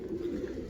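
A brief, soft, low cooing from a domestic pigeon, heard up close as a single short murmur.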